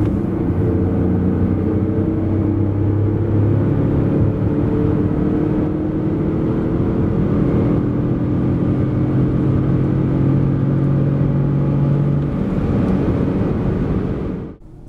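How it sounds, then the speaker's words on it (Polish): Peugeot 5008 GT 1.2 Hybrid (136 hp) pulling from 90 to 140 km/h, a sustained engine hum climbing gradually in pitch over road and wind rumble, easing off abruptly at the end. "A tak od 90 do 140 km na godzinę."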